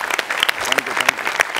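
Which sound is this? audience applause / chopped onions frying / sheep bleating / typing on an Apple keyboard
audience applause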